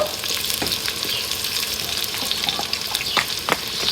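Whole spices such as cardamom and cinnamon with garlic paste frying in oil in a pan, a continuous bright sizzle with occasional scraping stirs, close and steady.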